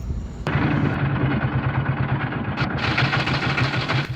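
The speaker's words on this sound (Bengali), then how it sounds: "ছোট ট্রলারে করে আমরা একসাথে রওনা দিয়েছি" A small trawler boat's engine chugs in a steady, close, pulsing rhythm, a low throbbing drone that runs continuously with no talk over it.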